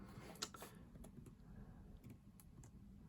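Sparse, quiet clicks of typing on an M1 MacBook Air keyboard, a few irregular keystrokes over a low steady hum.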